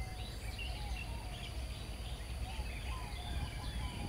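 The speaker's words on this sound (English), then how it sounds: "to witness or to listen to the birds singing." Several birds chirp and warble softly at a distance over a constant outdoor hum in Ang Mo Kio Town Garden West park, Singapore, with no voices.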